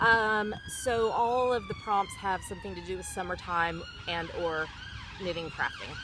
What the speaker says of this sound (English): Sorry about the sirens. It's just a part of life here.